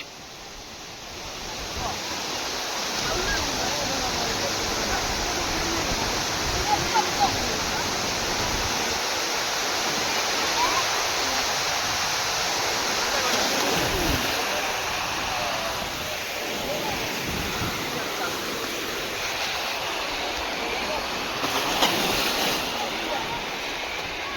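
A waterfall at Tangankana pours in a steady, loud broadband rush that holds for the whole stretch, with voices talking faintly beneath the falling water.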